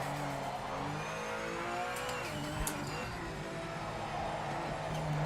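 GT1 race car in the racing video game Project Motor Racing, engine revving steadily through gear shifts with turbo blow-off valve chatter and a few sharp transient bursts over about five seconds, no talk.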